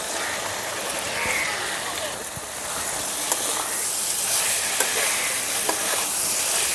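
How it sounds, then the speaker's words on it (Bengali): Fried potato and pointed gourd (potol) sizzle and hiss in a pan with spices and coriander powder, stirred steadily up close, with occasional spoon scrapes over a continuous frying sound. "মশলার সঙ্গে আলু আর পটলটাকে 2 মিনিটের মতন কষিয়ে নেব।"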